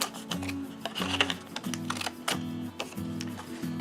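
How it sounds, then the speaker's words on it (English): Decorative scissors snip through paper while a handmade 3D birthday card is trimmed, giving a run of crisp clicks and cuts over a low, steady background hum. "now I'm going to use my decollage scissors"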